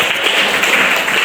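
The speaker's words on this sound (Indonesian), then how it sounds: "Beri tepuk tangan anak-anak untuk kelompok 1." Schoolchildren clapping in a classroom for a presenting group, a brief burst of dense, close hand claps.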